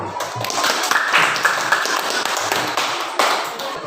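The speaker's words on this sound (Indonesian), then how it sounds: "Tepuk tangan dulu." A classroom of students claps for their classmates' group presentations, a dense, close patter of many hands lasting several seconds, with a few brief voices mixed in.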